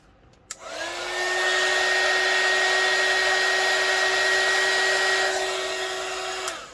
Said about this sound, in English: need my heat gun again, if I can find it